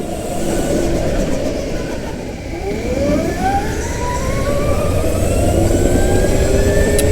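Go-kart engine revving hard on a track, a loud, close buzzing whine that climbs and sweeps in pitch as the kart accelerates, with other karts droning nearby.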